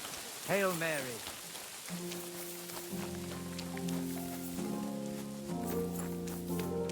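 Steady rain falling in the medieval open world of Kingdom Come: Deliverance 2, a continuous wash of patter under sustained musical tones, with a brief vocal-like call near the start and no talk.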